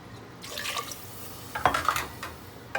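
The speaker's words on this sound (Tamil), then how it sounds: "நான் 3 கப்பு தண்ணி ஆட் பண்ணுறேன்" Water splashes and trickles into a pot of rice for pulao in short bursts, with a clink of cookware, close by.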